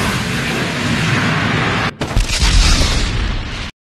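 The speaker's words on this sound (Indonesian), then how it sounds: "setelah diserang banyak senjata termasuk rudal, jelas saja membuat Samidare terkejut" Anime weapon and missile fire erupts as a loud, continuous rumbling barrage of explosions, cut by a brief gap before a second heavy burst of booming blasts that ends abruptly.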